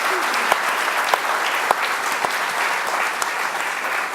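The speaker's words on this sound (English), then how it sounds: "A round of applause, because that is amazing what you're seeing tonight." An audience at an evening talk on digital humans claps in a steady, even round of applause, with a few sharper individual claps standing out.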